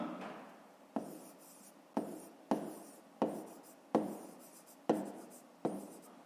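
A pen writes measurements into a school notebook while a fifth-grade maths exercise is worked through, making about seven distinct scratchy strokes at a steady rhythm of roughly one per second, close and fairly quiet, with no talking.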